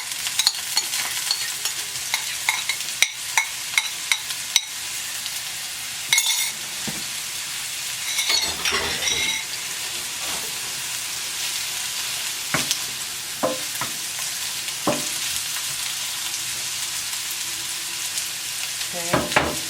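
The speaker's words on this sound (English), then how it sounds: "So now I'm going to add in the spinach." Spinach being stirred into a pan with chicken while it sizzles and fries steadily, with a continuous hiss and repeated scraping, clinking stir strokes throughout; no talking.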